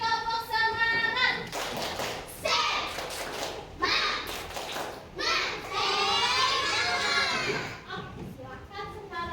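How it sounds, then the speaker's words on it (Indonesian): A class of children does a rhythmic spirit clap, with bursts of claps and young voices chanting and shouting in a classroom, loud and close, interleaved with group vocal calls. "Yuk, 1 kali tepuk semangat."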